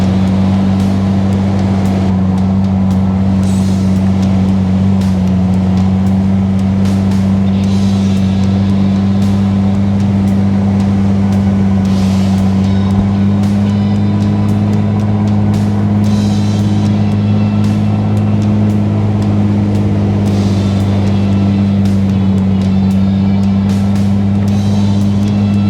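A Jeep Gladiator cruising along an Outer Banks beach, its engine a steady low drone with strong constant hum throughout, wind buffeting over the top, no voices.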